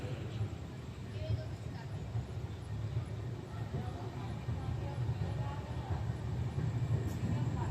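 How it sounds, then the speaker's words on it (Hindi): The Gondia Barauni Express departs Amgaon railway station with a faint, steady low rumble that swells slightly as it rolls on. "हमारी ट्रेन का फाइनल डिपार्चर हो गया है यहाँ से"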